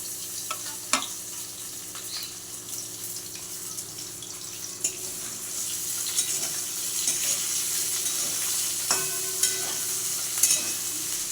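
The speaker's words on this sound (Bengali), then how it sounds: "এবার এটাকে লাল করে ভেজে নিতে হবে গ্যাসের ফ্লেমটাকে বাড়িয়ে দিলাম এবং এটাকে ভাজতে থাকলাম" Chicken fries and sizzles in a pan over a raised gas flame for a tea-liquor chicken curry, a steady crackling hiss with occasional sharp clatters from stirring, close up and without talk.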